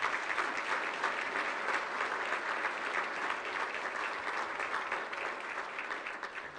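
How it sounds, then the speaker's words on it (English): A civic audience at a city address applauds the council members with steady, dense clapping that holds evenly throughout, fairly distant and moderately quiet, with no talking. "Would you please give them a round of applause?"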